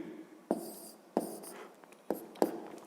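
Pen or pencil writing numbers for a fifth-grade addition sum, four short scratchy strokes spaced across a quiet room, close and soft, with no talking.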